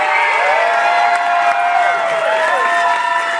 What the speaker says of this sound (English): A big round of applause go to the 2013 Seattle Best of the Northwest, Cochon 555